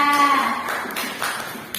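A class of students claps together in a classroom, a short burst of scattered hand claps that thins out quickly.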